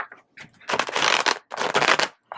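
Two bursts of riffle-shuffling tarot cards during a reading, each a dense crackling rush lasting about half a second, close up with brief pauses between.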